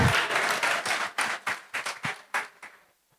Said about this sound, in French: Merci pour ces applaudissements.